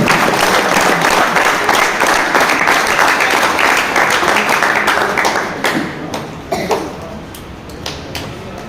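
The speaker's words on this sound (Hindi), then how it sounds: "जोरों से तालियां बजाएंगे" A crowd applauds at a prize distribution for a pigeon-flying tournament, loud dense clapping that thins into scattered individual claps and taps toward the end.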